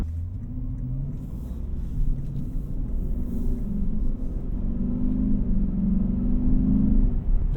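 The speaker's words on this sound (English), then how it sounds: "This does have valves in the exhaust that open up, depending on the drive mode" A steady, deep V8 exhaust rumble from a 2024 Lexus IS500 F Sport while it drives, building gradually and staying close and prominent throughout with no talking.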